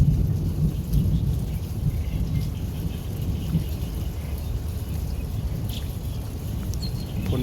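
Steady rain pours down outdoors beside a farm, a constant dense hiss with low rumble underneath, unbroken for the whole stretch and with no voices.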